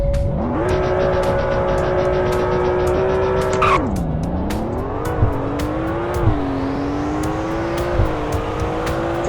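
Aston Martin supercar engine in the Roblox game Greenville, a steady loud drone that dips and climbs as revs fall and rise, with brief tire squeals and sharp clicks along the way.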